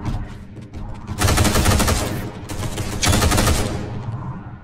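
Plasma bolts firing in the video game Space Hulk: Deathwing, heard as two loud, close bursts of rapid crackling shots over a low rumbling background.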